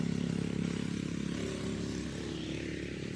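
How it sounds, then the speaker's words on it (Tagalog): A loud motorcycle engine roars close by as it passes, a dense rumbling drone that fades slightly toward the end. "may malakas na dumadaan ng motor"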